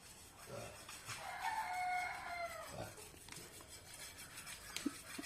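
A rooster crows once, a long drawn-out cock-a-doodle-doo from a moderate distance over faint background noise.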